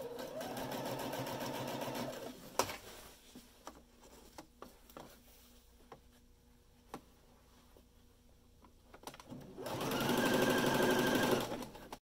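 A sewing machine stitches down a folded fabric hem for an elastic casing, running in a loud steady burst, pausing amid small clicks and handling taps, then whirring again near the end.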